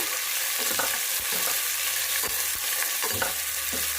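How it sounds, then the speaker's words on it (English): Onion frying in a pot for mushroom biryani, stirred now and then, with a steady close sizzle and scraping strokes of the spoon over about four seconds, no voices. "So we have to fry this onion until it becomes light brown in color."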